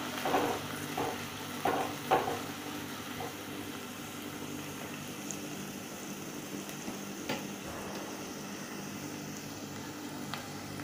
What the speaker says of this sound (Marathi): कांदा घेतलेला आहे बारीक चिरून मीडियम साईजचा, तो चांगला भाजून घ्यायचा आहे।